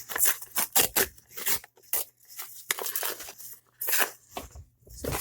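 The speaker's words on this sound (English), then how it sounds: "I want to rip this edge actually." Paper edge torn by hand for a mixed media craft project, heard as several close, crisp ripping bursts separated by short pauses.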